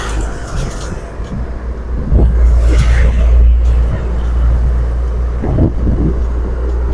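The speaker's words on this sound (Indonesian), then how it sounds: "Iki truk molen kok." Cement mixer truck rumbling past on a road, its deep engine swelling loudly for a few seconds before easing off, with people chatting over the traffic noise.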